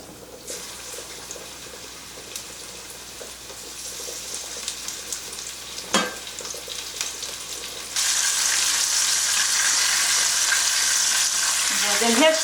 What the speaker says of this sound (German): So, ich tue jetzt den Fisch rein.